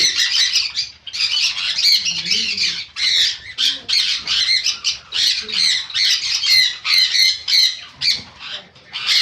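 A crowd of budgerigars and other pet birds in a shop squawks and chatters nonstop, loud and close, in rapid overlapping bursts.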